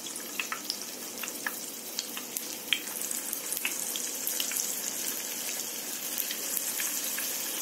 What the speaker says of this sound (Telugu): ఈ బాల్స్ని మనం డీప్ ఫ్రై చేసుకోవాలి